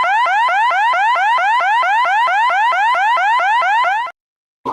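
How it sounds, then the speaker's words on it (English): A sound-effect alarm blares loud and close, a rapid repeating rising electronic whoop cycling about four times per second for four seconds, then cutting off abruptly, with a short burst returning at the end. "alarm system has went off"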